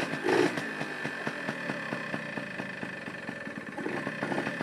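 A Yamaha Towny moped engine idles low and uneven, a close, steady putter of regular firing pulses that runs on without stopping.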